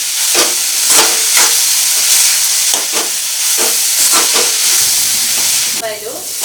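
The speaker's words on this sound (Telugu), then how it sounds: "ఈ టమాటాలు, ఉల్లిపాయలు బాగా మెత్తబడే వరకు కూడా ఫ్రై చేసుకుందాం" Tomatoes and onions frying in a pan, a loud, dense sizzle with repeated stirring scrapes, near and continuous, with no talk.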